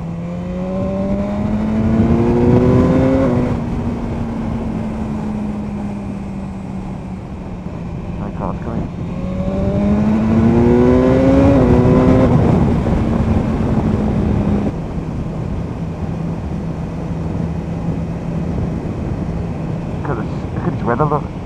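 A 2017 BMW S1000R with an Akrapovic exhaust and a removable EU4 baffle roars as it rides, climbing through repeated rising gear pulls with loud engine drone and wind rush. It drops back to a steady cruise between the pulls, and no one talks.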